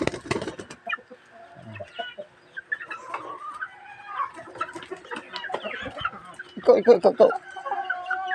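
Backyard chickens let out of their coop cluck in short, scattered bursts, close by and fairly soft, while a person speaks intermittently.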